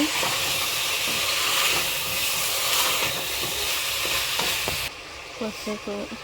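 Ginger-garlic paste sears with mutton in a pan, a loud continuous hissing fry with stirring scrapes that drops off sharply near the end, leaving quieter clinks.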